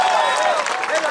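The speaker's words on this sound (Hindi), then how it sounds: "ठोको ताली ठोको" A crowd at an outdoor political speech rally in Aurangabad bursts into brisk applause, a dense wash of clapping that carries on under loud voices.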